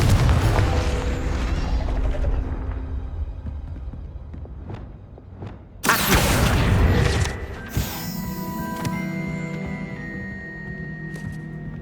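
The Confringo explosion spell goes off in Hogwarts Legacy, a sudden bright blast cutting in after a quieter stretch of ambient tones, then ringing and crackling for a second or two before settling into a lingering hum.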